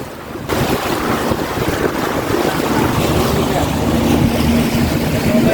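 A speedboat races fast across open water, its roaring motor blended with rushing spray and heavy wind buffeting the microphone, loud and continuous throughout.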